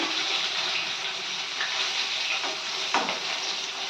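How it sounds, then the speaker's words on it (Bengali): Fish fries in a pan in a home kitchen, a dense continuous sizzle close by at steady loudness, with a couple of faint clicks of utensils and no talking. "এখন হচ্ছে মাছ ভাজা মাছ ভাজা দেখো এই যে মাছ ভাজা"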